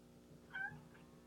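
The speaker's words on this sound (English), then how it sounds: "That is actually my cat you hear." A single short cat meow, faint and close, over a quiet background hum.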